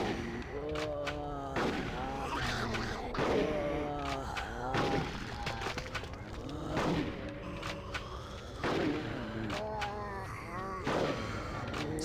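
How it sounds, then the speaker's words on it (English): Repeated gunfire shot from the hip in the game Conker's Bad Fur Day, several thudding bursts spaced a second or two apart over a loud mix of game music and effects. "Shooting from the hip at least lets me just quickly fire."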